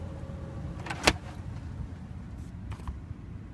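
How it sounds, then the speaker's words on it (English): Powered rear window of a 2011 Toyota 4Runner SR5 V6 folding down, heard as a soft motor whir with a sharp click near one second and fainter mechanical clunks later, close and quiet with no talking. "This back window is powered, it folds down."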